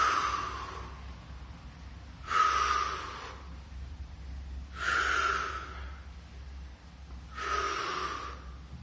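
Sharp, forceful exhales during circuit training reps, four breathy bursts spaced a couple of seconds apart, close and clear over a low steady background hum.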